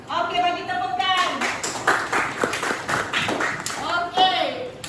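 Students in a secondary school maths class clap in a short burst of scattered claps and taps. Voices talk before and after.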